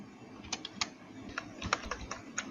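Keys tapped on a computer keyboard while entering numbers into a Microsoft Word table, a run of light, irregular clicks at moderate volume over a steady background hum.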